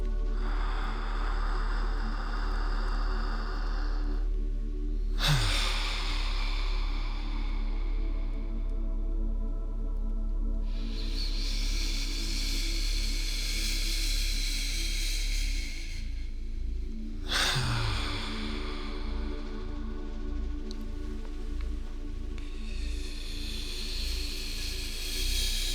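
Slow, deep breathwork exhales, two long airy breaths released in turn with quieter gaps between them, close and alone over a low steady hum.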